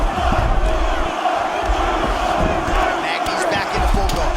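Arena crowd in the EA Sports UFC 6 game roars and murmurs steadily through a Kamaru Usman vs Neil Magny bout, a dense continuous swell of cheering with no speech over it.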